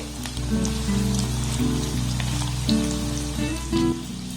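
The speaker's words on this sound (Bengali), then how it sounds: "এইভাবে একটা কড়াতে যতগুলো ধরবে ততগুলো দিয়ে ভেজে নেবো" Bread pieces fry in oil in a wok over a low-medium gas flame, a steady close crackling sizzle with dense popping, over a low hum, with no talk.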